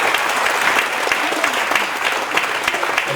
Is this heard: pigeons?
no